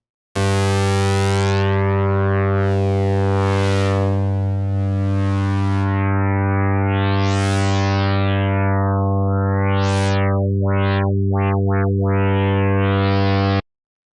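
Harmor synth in FL Studio playing a sustained UK hardcore rave bass note, held loud and steady for about thirteen seconds while the filter width is swept, moving the bright upper harmonics through rising and falling zips before it cuts off.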